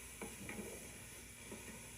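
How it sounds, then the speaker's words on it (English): Seasoned vegetables with rosemary, salt and pepper sizzle softly in a pan while being stirred, with a few faint scraping strokes over a steady low hiss; no talking. "And we'll give these a little bit of a stir."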